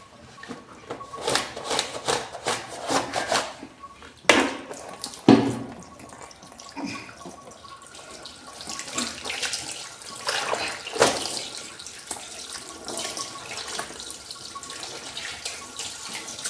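A shirt is being washed by hand in water after Harpic was applied to lift oil and food stains, giving irregular sloshing and splashing with a few sharp clunks and no talking.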